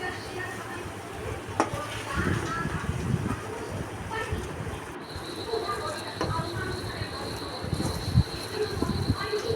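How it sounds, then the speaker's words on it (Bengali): Prawn pilau is stirred in a pot with repeated close scraping and rustling of rice under a low cooking sizzle, while someone talks over it and a steady high whine enters halfway through. "ভালো করে নেড়ে দিচ্ছি"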